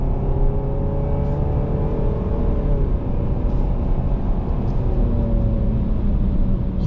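A 2024 Nissan Sentra engine drones steadily from inside the cabin as the car accelerates up a highway on-ramp, its tones slowly rising under a constant road roar; no one speaks.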